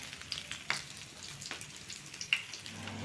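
Eggplant slices frying in a pan, soft sizzling with scattered sharp pops and spatters, faint and close, with no one talking.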